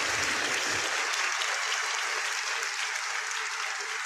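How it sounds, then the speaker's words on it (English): A steady wash of audience applause fills a live talk show setting, loud and continuous for several seconds with no voices on top. "Round of applause."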